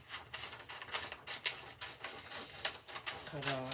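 Scissors snip steadily at printed DTF T-shirt transfer designs to trim off the wording, giving a close run of crisp, rhythmic cuts that ends in a brief voiced sound.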